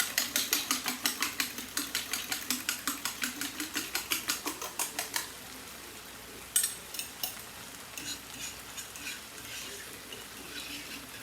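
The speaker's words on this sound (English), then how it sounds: "Give this a good whisk." Eggs whisked briskly in a bowl, a fast, even run of close clinking strokes that stops partway through, followed by a few scattered scrapes and taps.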